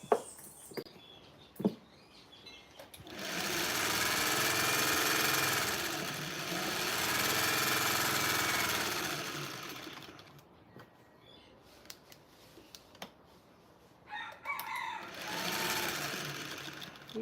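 A sewing machine stitches a quilt seam in a long steady whirring run of several seconds, pauses with a few light clicks, then starts a shorter second run, close and clear.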